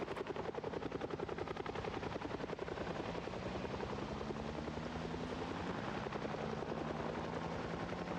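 A helicopter in the video game Project Zomboid drones with a steady rapid rotor chop and engine roar, loud and continuous from start to finish, with no speech over it.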